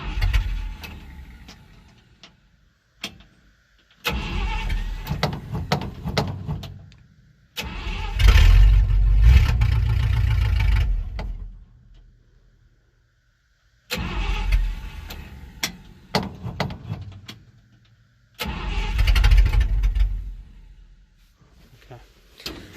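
A 1967 Dodge D100 engine cranks on its starter in several separate bursts, each a few seconds long with rough low churning, one catching briefly before dying, separated by quiet gaps, recorded up close with a little speech.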